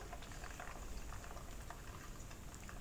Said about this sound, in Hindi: इसको वैसे ही मैं फ्राई कर रही हूँ।